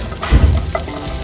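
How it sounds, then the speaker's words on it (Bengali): A steady sizzling hiss of onions and radhuni seeds frying in a pan, with a few scraping stirs and a brief clatter partway through. "পেঁয়াজ আর রাঁধুনিটাকে ভালো করে একটু ভাজতে হবে"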